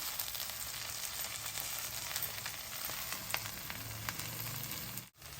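Drumstick leaves frying in coconut oil as they are stirred, a steady close crackling sizzle with occasional sharp pops, briefly cut off near the end.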